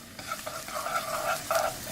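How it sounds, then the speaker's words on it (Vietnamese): Minced lemongrass stir-frying in melted lard in a pot, a close crackling sizzle broken by short scraping stirs, with no talk. "Xào lên."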